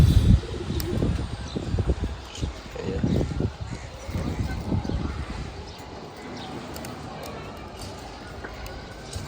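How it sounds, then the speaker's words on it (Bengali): A newly acquired male pigeon coos in low, throaty pulses close by, strongest early on and fading later, while someone talks over it. "এই যে একটা কবুতর কালেকশন করলাম নতুন"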